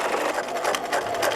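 A sewing machine runs steadily along a dotted line on a tote bag, back tacking at the start, making a continuous close, even mechanical whirr with rapid stitching pulses throughout.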